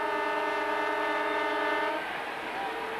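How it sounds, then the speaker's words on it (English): A loud, sustained horn-like end-of-quarter siren blares for about two seconds over crowd noise at a 2001 Kangaroos versus Geelong Australian football match, then cuts off leaving the crowd's roar. "Siren sounds."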